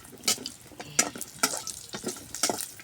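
Bori lentil dumplings fry in oil in a kitchen pan, with a steady light sizzle broken by repeated close scraping and stirring knocks.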